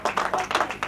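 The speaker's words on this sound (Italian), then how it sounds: "applausi" Applause from the home stand at a youth (allievi) football match, a short burst of rhythmic clapping from a modest crowd, fairly loud and continuous with no talk over it.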